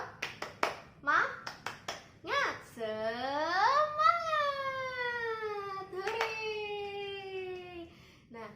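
Young children in a kindergarten classroom do a rhythmic clap chant with their teacher: a quick run of sharp handclaps, then voices joining in a long, drawn-out sung shout, with another clap burst partway through.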